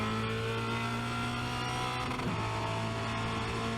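A Formula Renault 2.0 race car engine runs flat out at the Spa-Francorchamps Grand Prix circuit, a loud, steady, high-pitched drone from the cockpit that shifts pitch briefly midway, with no talk over it.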